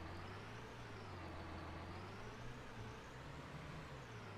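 A tractor in Farming Simulator 19 pushing hay bales, giving a loud, continuous engine drone that rises and falls slightly in pitch over a steady wash of broadband noise, with no talking.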